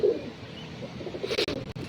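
Pigeons coo on a rooftop in rainy weather, a soft, rolling, repeated cooing up close with light flutters and rustles toward the end.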